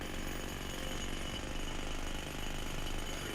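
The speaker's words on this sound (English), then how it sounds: "there's some guys working here with jackhammers and excavators" Jackhammers pound steadily at a work site in Sniper Ghost Warrior 3, a dense continuous rattling drone with excavator noise beneath, even and unbroken throughout.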